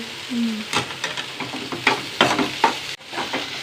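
Okra stir-fried in a pan, with repeated scraping stirs over a continuous sizzle, close and fairly loud, in short irregular strokes.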